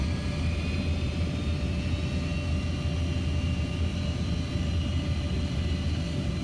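Jet aircraft approaching to land in a flight combat video game, a steady, even engine roar with a low rumble and faint whining tones, continuous and unchanging, without talk.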